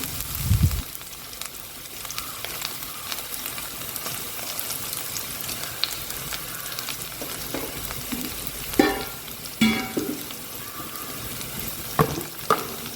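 Okra curry sizzles softly in a pan while a spoon stirs it, with a few louder scrapes and clacks against the pan breaking through the steady, quiet frying hiss.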